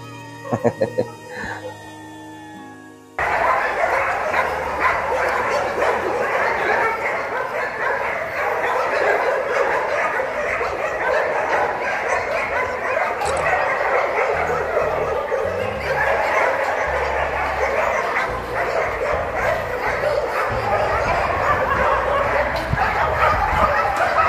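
A working dog barks during an outdoor demonstration of how it works, its barks sounding under steady, loud broadband noise that starts abruptly after a brief quieter opening.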